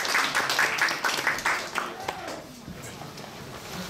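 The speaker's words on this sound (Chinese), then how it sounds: "我们是不是就直接掌声欢迎胡老师啊？" An audience claps in applause to welcome a lecturer at a university history department lecture; steady clapping fills the first two seconds, then fades as the room settles.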